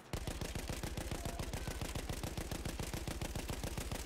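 Rapid automatic gunfire from a high-capacity weapon in Battlefield 1 on Xbox One, a loud unbroken burst of evenly spaced shots rattling through the entire span with no speech.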